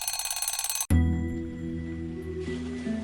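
A rapid pulsing factory closing-time alarm rings briefly, then gives way to a loud sustained ringing tone that slowly fades, no voices.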